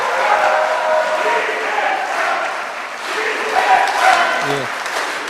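Hall audience applauding a guest lecturer at a Democratic Party talk in Chungnam, a dense sustained clapping with crowd murmur and a few shouts mixed in, fairly loud and close throughout.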